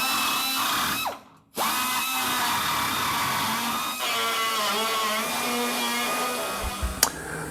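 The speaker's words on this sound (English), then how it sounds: "This tapered tungsten carbide tip works great to get into tight corners, to get rid of paint and rust." A tapered tungsten carbide burr on a power tool whines steadily while grinding paint and rust off metal in a tight corner, with a brief stop and restart, loud and close.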